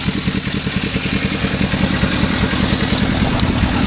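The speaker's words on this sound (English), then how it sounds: "This stock exhaust is drilled out." DN150 Baja buggy converted to a 750cc Suzuki engine, idling cold through a drilled-out stock exhaust: steady, close, rough rapid putter with a clattery edge, no voices.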